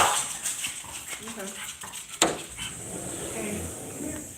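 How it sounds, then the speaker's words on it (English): A small yappy dog barks in a residential setting in The Villages, a few sharp yaps and whimpers mixed with people talking nearby, one sudden bang standing out midway. "Make that yappy dog go somewhere else."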